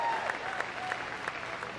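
Audience applause at Crufts for a rescue dog finishing an agility run, steady dense clapping from a large indoor crowd with a faint voice over it.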